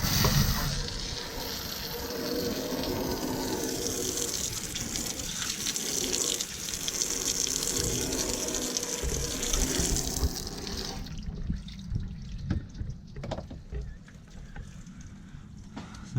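Water from a faucet gushes steadily while rinsing Star Brite cleaner off teak wood, a continuous hiss that cuts off sharply near the end, leaving quieter drips and handling noises.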